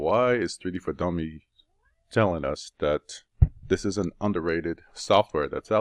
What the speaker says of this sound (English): Oh no, that's my cat.